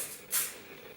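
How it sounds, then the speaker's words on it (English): Hard-hold Osis hair spray hisses in one short burst onto a curled strand of hair during bridal ponytail styling, a soft airy spray close to the microphone. "So use your hard spray. I'm using Osis."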